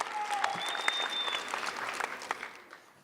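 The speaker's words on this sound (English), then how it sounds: "Can we get a round of applause for that?" Audience applause at a Pima Community College GED graduation ceremony, steady crowd clapping through three seconds that tapers slightly toward the end, with a faint whistle-like tone early on.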